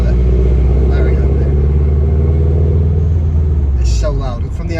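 A Subaru hatchback fitted with a Cobra exhaust revs and drones loudly, a heavy, steady low engine rumble from inside the car, with a brief burst of a voice near the end.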